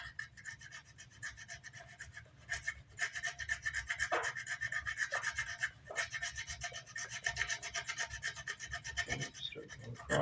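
Hand sanding a mahogany guitar body with a small block, rhythmic raspy back-and-forth strokes, close and fairly loud, with brief pauses between passes.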